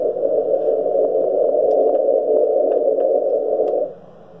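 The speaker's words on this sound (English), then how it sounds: "You can hear the stepper tuning in the background too." A stepper motor in a Tokyo Hy-Power amplifier tunes with a steady buzzing whir for about four seconds, with faint clicks, and then stops abruptly.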